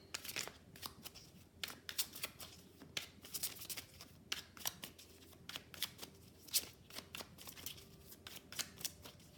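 Tarot cards shuffled by hand in quick, close, crisp riffling bursts with a rapid irregular rhythm, quiet and alone with no talking.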